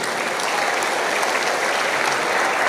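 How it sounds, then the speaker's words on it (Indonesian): An audience breaks into applause at a talk on Pancasila and Indonesian unity, a dense, even wash of many hands clapping throughout, close and sustained with no speech over it. "Tepuk tangan untuk NKRI."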